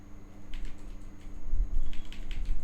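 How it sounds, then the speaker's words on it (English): Keystrokes on a computer keyboard, a quick run of soft clicks in two short bursts, close and fairly quiet over a faint low hum. "I will type Netstat"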